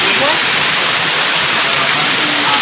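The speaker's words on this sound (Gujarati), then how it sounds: "પાણી હાલ બહુ જ આવે છે, બનાવી દઉં બ્લોગમાં" Water pours strongly and steadily near a Mahadev temple in Ranol village, a dense continuous rushing wash close to the microphone with no break across the short stretch.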